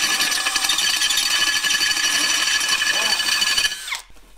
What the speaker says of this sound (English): Cast iron drill's so nice.